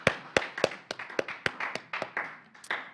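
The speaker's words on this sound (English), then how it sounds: "Round of applause for Merton." Sparse clapping from a few people at a child protection and family services event, about a dozen distinct, fairly quiet claps in an uneven rhythm.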